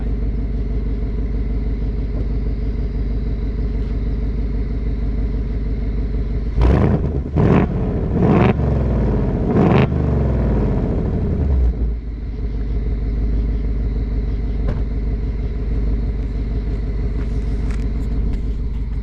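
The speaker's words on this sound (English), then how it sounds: "We'll get an exhaust note from the outside." A deep, rumbling idle from a 2024 Ford Mustang GT V8 exhaust in sport mode with valves open, heard from outside, broken by a few sharp, loud revs before settling back to a steady burble.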